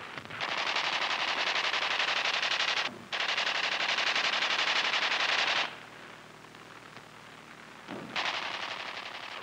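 A WW2 aircraft machine gun fires long rapid bursts, loud and harsh, with a short gap between two sustained volleys, then a quieter lull and another burst.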